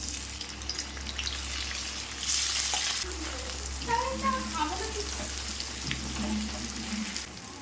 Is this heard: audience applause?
no